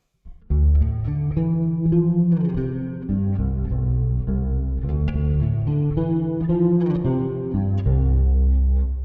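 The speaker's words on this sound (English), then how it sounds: "So the bass is really in the room and lots of reverb" A bass guitar plays through a Kemper Profiler with heavy reverb, giving a deep, sustained line of plucked notes that blur into a washy, roomy tail. It is loud and continuous and carries no voices.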